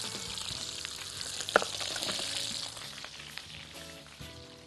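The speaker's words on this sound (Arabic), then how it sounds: "هحط الرز اديله تشويحة معاها، تشويحة بسيطة مع البصلة" Rice being sautéed with onion in a pot, a steady sizzle and crackle with stirring scrapes, moderately loud and close with no talk.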